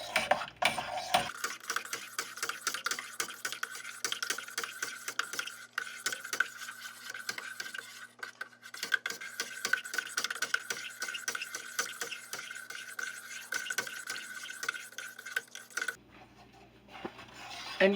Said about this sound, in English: And you just keep on stirring for a minute or two.